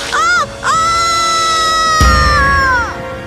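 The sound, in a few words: woman screaming in Hindi cartoon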